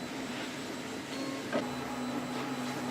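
A Wanhao Duplicator 4S 3D printer runs steadily in a workshop lab, a constant mechanical whir with a sustained motor tone, plus one brief sharper click midway.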